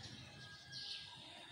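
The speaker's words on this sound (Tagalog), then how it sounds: "Tumutunog na yung ibon. Muhuni ng ibon guys." Songbirds chirp faintly in the distance outdoors in the morning, a brief bright call rising over steady low background noise.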